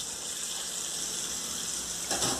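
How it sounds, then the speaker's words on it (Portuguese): Water runs steadily into a handmade concrete countertop bathroom sink basin, a soft, constant faint rush with a brief louder splash near the end. "como a água escorre facilmente"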